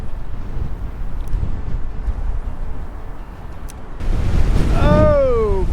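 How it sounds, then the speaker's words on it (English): Strong wind roaring over open water during a fishing trip, a loud, constant rumbling buffet on the microphone that surges louder near the end, with a voice rising over it. "The wind is insane."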